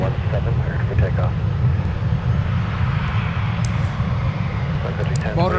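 A Sun Country airliner rolls for takeoff on runway 17 at Minneapolis–Saint Paul airport, a steady low engine roar throughout with a radio controller's voice heard over it.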